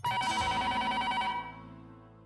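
A telephone rings after a number is dialed, one loud ring of bright, steady tones that stops and fades into quiet.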